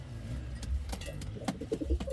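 Indian fantail pigeons coo in a coop, a few soft low throaty coos coming close together toward the end over a steady background rumble.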